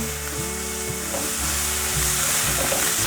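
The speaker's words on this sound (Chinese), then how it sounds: "准备一个平底炒锅，锅内放入少许油，放入金针菇，爆香金针菇。" Enoki mushrooms stir-frying in a little oil in a flat frying pan give a steady, close sizzle, with occasional stirring scrapes heard throughout.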